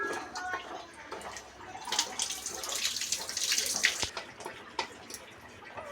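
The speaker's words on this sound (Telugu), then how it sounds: "చింతపండు జ్యూస్ వేసుకోవాలి." Tamarind juice pours into a simmering masala for fish curry, a soft continuous splashing and trickling with small clinks, fairly quiet and close.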